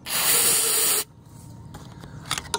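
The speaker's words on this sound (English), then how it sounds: "I open it with a screwdriver and then spray some starting fluid in." A loud, steady spray of starting fluid into a Briggs and Stratton 550EX carburetor hisses for about a second, then stops abruptly, leaving quiet clicks and faint handling noises.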